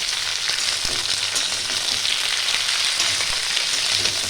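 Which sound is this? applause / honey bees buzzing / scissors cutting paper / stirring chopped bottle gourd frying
stirring chopped bottle gourd frying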